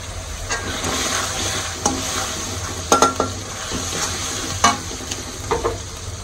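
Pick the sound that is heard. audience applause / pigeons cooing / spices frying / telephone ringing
spices frying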